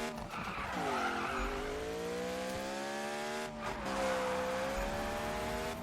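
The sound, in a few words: car tires skidding while drifting in Need For Speed video game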